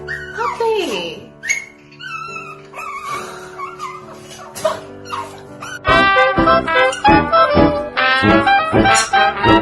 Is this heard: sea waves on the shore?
no